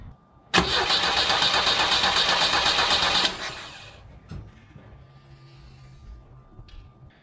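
A 1966 Volvo 122S Amazon with a hard-starting fault cranks loudly and harshly for about three seconds, then the engine cuts out without catching, leaving a faint low rumble afterward.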